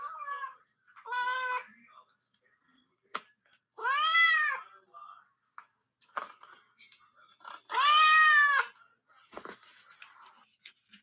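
A cat meows on a local radio broadcast, three drawn-out, wavering meows spaced a few seconds apart with faint rustling between them.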